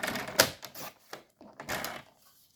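Scissors or a paper trimmer cut paper for small red Valentine's heart-themed ATC cards, giving several short crisp snips and rustles, one sharp loud click near the start, with pauses between cuts.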